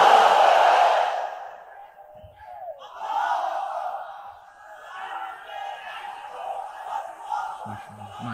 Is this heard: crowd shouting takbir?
yes